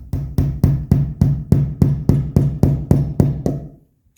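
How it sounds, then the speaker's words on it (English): About a dozen sharp metallic hammer strikes on a crimped metal clip, fitted during interior work on a 1985 wagon, in a steady, even rhythm, close and loud, then the sound stops. "I hammer it down in there to open it up"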